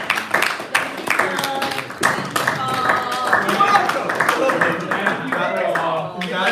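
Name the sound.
audience clapping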